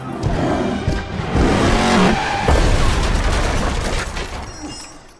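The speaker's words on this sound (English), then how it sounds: "when Hellboy throws this punch, you can hear the sound of a stock car revving before impact" Stock car engine revving hard as a film sound effect behind a punch, a loud roaring rise with tire-squeal-like screech that swells and fades over several seconds.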